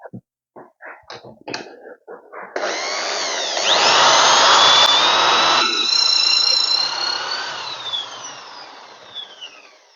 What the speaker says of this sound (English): That is the hole drilled. I'm going to go ahead and do the other side